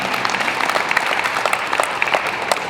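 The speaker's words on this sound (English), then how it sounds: "A round of applause for all the nominees." An audience at a folk music awards nominee announcement gives a brief burst of lively clapping, many hands close together in a dense patter that holds steady.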